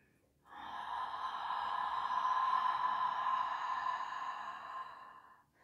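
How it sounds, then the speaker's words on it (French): A single long, steady exhale during a breathing exercise, a breathy hiss that swells, holds for several seconds and fades out, heard close and alone. "Bien, on inspire. Longue expire."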